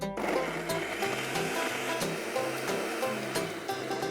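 A kitchen blender grinds red onions, ginger and garlic into a smooth paste, its motor whirring steadily with a chunky, rattling churn close up and no voices.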